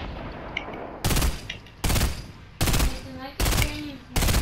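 Bursts of automatic gunfire from the video game Fortnite hit in five sharp, loud volleys at roughly regular intervals, each lasting about half a second, with quieter game ambience between them.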